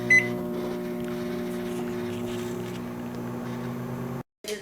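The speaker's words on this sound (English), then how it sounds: "melt 1 stick of unsalted butter in your microwave" A microwave oven's steady electric hum with a low droning buzz runs for about four seconds while melting butter, then cuts off abruptly, followed by a brief clunk.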